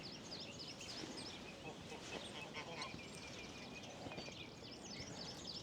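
Ducks at Waterfoot call together in a busy chorus of honks and quacks, a continuous overlapping flock sound close by with some faint talk underneath.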